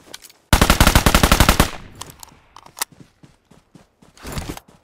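MG3 machine gun in PUBG Metro Royale firing a loud, close, rapid burst of about a dozen shots, followed by scattered softer clicks, steps and a brief second burst.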